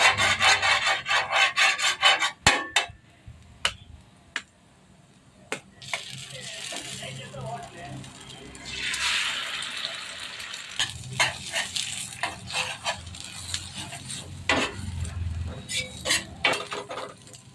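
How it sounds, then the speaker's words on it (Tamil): Sliced onions sauté on a hot tava for egg rice, a soft sizzle under repeated scraping and stirring of a spatula against the pan, with sharper clinks of metal. The sound is close, and a faint voice sometimes comes through. "இந்த அளவுக்கு வெங்காயம் நல்லா வதங்கி வரணும்"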